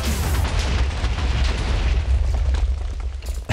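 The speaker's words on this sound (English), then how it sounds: "it's basically a rocket launcher with WUBS" A rocket launcher fires in a Minecraft modpack game, giving a loud, continuous blast with booming, wobbling bass that fills the whole clip with no talk.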